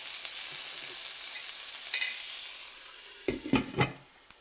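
Potato and pumpkin pieces fry with salt and turmeric in a covered pan, a steady soft sizzle with a few louder stirring scrapes near the end.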